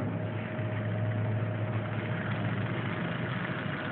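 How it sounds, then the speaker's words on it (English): A small DC motor in a contactless digital tachometer project runs with a steady, even hum and buzz, continuous and close, with no speech. "this is the control panel for controlling the speed of the DC motor."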